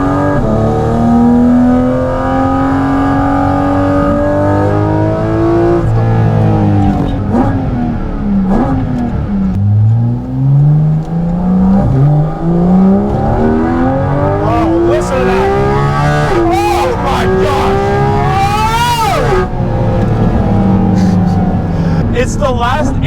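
A Porsche GT3 RS or GT4 RS engine revs hard to high rpm, loud and close, its pitch climbing and dropping through repeated sweeps with sharp upshifts, with a voice talking over the roar.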